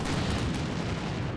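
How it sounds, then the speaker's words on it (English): A dense, continuous rumble of explosions and artillery fire in Combat Mission Shock Force 2, loud and steady with no talk over it. "Alright, there was some explosion."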